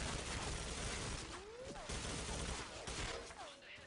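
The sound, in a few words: grenades and gunfire in video game match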